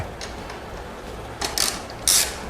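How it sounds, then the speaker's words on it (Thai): Bolts on the battery of a Honda Monkey motorcycle are tightened with a hand tool, a few close metallic ratcheting clicks and rasps in two short bursts over a quiet background. "ก็ทำการยึดน็อตเข้าไปที่เดิมนะครับ"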